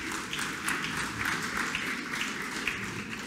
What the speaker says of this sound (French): Je vous demande d'accueillir et d'applaudir Yamina Saheb